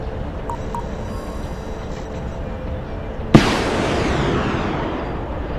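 An anti-tank guided missile launches in the Broken Arrow war game with one sharp close blast, followed by a sustained rushing roar as it flies off, after a quiet stretch of low battlefield ambience.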